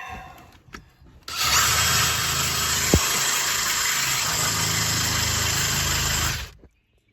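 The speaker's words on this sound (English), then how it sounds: "I hate drilling holes in this boat." A power drill whirs loudly and continuously for about five seconds, drilling holes in a wooden sailboat, starting abruptly and winding down at the end, with a single sharp knock partway through.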